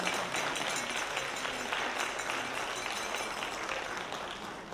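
Steady audience applause at a 2024 Missouri Senate District 15 candidate forum, a dense, even wash of many hands clapping that stays faint and distant throughout.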